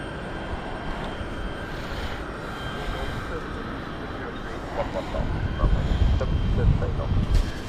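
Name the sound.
Globe Air Mustang jet aircraft at London City Airport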